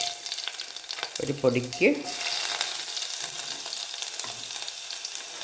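Small shallots drop into hot oil already popping with mustard seeds, raising a continuous close sizzle, with a brief burst of utensil clatter and a short spoken remark partway through.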